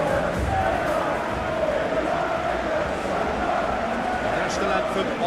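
Stadium crowd noise from PES 21 football game before an Argentina vs England World Cup match, a dense continuous roar with chanting and cheering, steady and loud throughout the clip.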